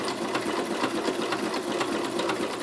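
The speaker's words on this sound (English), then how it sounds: "it'll signal the machine to then go backwards with a zigzag stitch" A sewing machine stitching a one-step buttonhole with a zigzag stitch gives a loud, close, continuous mechanical whir with a rapid, even pulse of needle strokes throughout.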